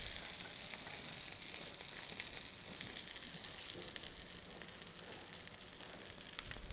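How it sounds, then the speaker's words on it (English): Steady, dense sizzling of chicken frying in a hot pan, a continuous crackling hiss with no talking. "Chicken's cooked. Sizzling nicely."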